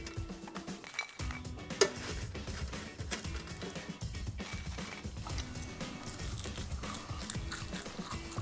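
Crunchy frozen food cooked in a Philips smart-sensing air fryer being chewed up close, with steady crisp crunching bites and clinks of utensils throughout, no talking.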